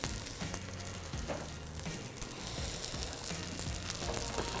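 Grains frying in a generous layer of oil in a pan over high heat, a continuous crackling sizzle with scattered pops and spatters throughout, steady and close, without any voices.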